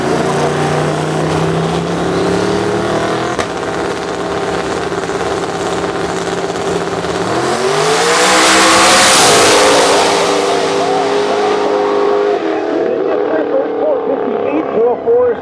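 Nitrous-fed drag race cars, a Ford Mustang and a Chevrolet, roar loudly down the strip, engine pitch sweeping upward as they accelerate and swelling to a peak before fading, under a constant track announcer's voice.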